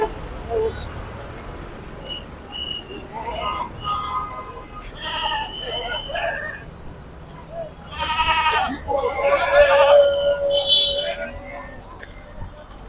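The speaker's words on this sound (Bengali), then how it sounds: "প্রচুর পরিমাণে ছাগল নিয়ে এসেছে ভাই।" Goats bleat at a livestock market selling goats and sheep, several wavering calls close by, rising and overlapping in the second half, with people talking throughout.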